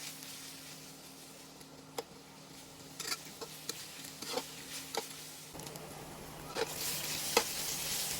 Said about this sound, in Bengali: পেঁয়াজ কুচিগুলোকে আমি খুব ভালোভাবে ভেজে নেব